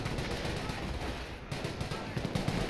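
Bren gun firing in a Company of Heroes World War II battle, rapid continuous bursts of automatic gunfire mixed with dense battle noise, loud and unbroken.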